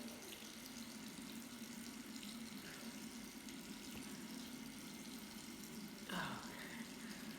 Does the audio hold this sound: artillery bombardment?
no